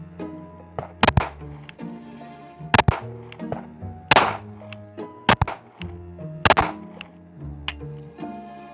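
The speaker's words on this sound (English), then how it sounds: "I'm not going to bore you by shooting this gun a ton, but we are going to shoot it." A Smith & Wesson PC Bodyguard pistol fires about six loud, sharp shots at uneven intervals with a ringing tail after each, and no voices.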